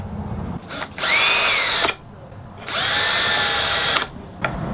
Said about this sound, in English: I'm using a self-centering drill bit to make sure that I get right in the center of that hole.